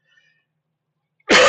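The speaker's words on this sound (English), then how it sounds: "sorry about the cough" A single short cough bursts out abruptly at the very end after near silence, close to the microphone.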